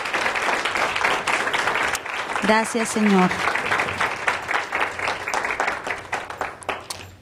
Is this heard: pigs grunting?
no